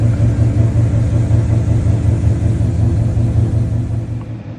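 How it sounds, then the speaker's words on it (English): Ford Mustang GT S550 engine warming up in snowy Houston, a deep steady idle rumble with a throbbing low pulse, close and continuous throughout. "Got the Stang warming up"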